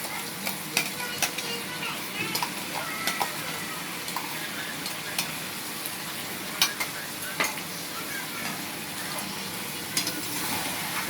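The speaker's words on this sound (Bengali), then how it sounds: "ভালো করে মশলার সঙ্গে চিকেনটাকে কষিয়ে নেব।" Chicken stir-fried with a fried spice paste in a hot pan sizzles loudly and steadily, punctuated by frequent scraping and clinking of a spatula against the pan, close up and without talk.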